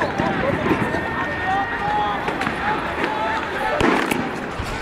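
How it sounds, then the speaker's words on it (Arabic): Gunfire at a protest in Tahrir Square, Cairo, on 28 January, sharp scattered cracks over a noisy crowd with people shouting and running nearby. "they are shooting at us"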